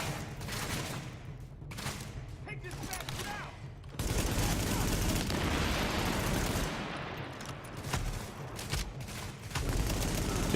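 Bursts of gunfire and grenade blasts in The Division beta, with rapid volleys of shots and a louder sustained stretch of firing and explosions midway, while a person talks over the action.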